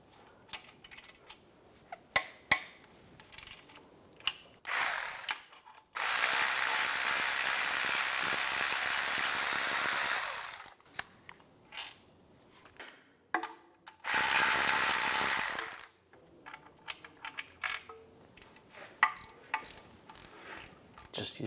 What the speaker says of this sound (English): Just using a 16mm ratchet wrench.